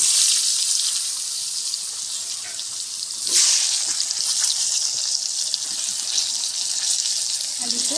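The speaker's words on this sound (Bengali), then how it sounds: "এবার আমি আলুগুলো ভেজে দেবো।" Potatoes frying in a pan give off a loud, steady sizzling hiss with a brief surge just past the midpoint, and no voices are heard.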